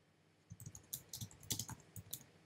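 Keys on a computer keyboard are tapped in quick, irregular bursts, close and fairly quiet, with no voice.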